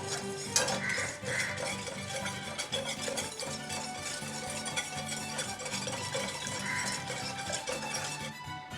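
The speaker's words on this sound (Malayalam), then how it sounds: "ഈ പഞ്ചസാര അലിയുന്നത് വരെ നമുക്കിങ്ങനെ ഇളക്കി കൊടുക്കാം." Sugar and water stirred in a saucepan until dissolved, steady light metallic scraping and clinking of a spoon against the pan, close and continuous with no voices.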